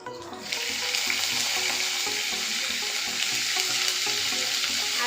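Chopped onion drops into hot mustard oil already holding nigella seeds and dried chillies, setting off a sudden loud sizzle that then stays steady and close.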